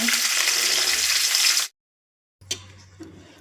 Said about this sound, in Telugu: కడాయి పెట్టాను ఆయిల్ హీట్ ఎక్కిందండి ఉల్లిపాయ ముక్కలు వేస్తున్నాను